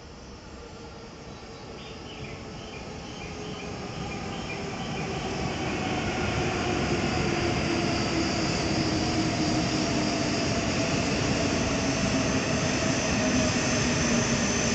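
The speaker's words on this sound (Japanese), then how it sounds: "列車到着です。" Yamabiko 219 Shinkansen bound for Sendai, a 17-car train, pulling into platform 1 at Oyama Station, a steady rushing roar and high whine that swells louder over several seconds, no talk.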